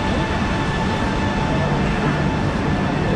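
A passenger train pulls into a station platform with a loud, steady rumble and rolling wagon noise, and a voice is briefly heard under it.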